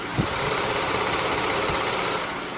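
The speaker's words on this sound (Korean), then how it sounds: "영상에서 들리시는 것 같이 굉장히 정숙하고 규칙적인 엔진 사운드 들려주고 있고요." Hyundai Genesis G80 with a 3.3 GDI engine idles with the hood open, giving a steady, even mechanical hum with a faint regular ticking, close and continuous with no talking.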